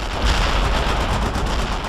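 Gunfire and artillery in the Cold War strategy game World in Conflict, a loud, continuous barrage of booming blasts and rattling shots layered into a dense roar of battle.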